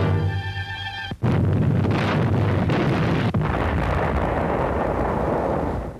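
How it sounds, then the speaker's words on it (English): Naval guns pound Iwo Jima, shell salvos bursting in a continuous heavy roar, with a sharp blast near the start followed by a sustained loud, rumbling barrage without a break. "Now the bombardment mounts in intensity, salvo after salvo."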